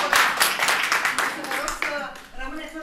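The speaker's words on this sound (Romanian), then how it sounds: "am nevoie de aplauze din asta" A short burst of clapping from a small group in a room, loud close hand claps tapering off after about two seconds, followed by quieter voices.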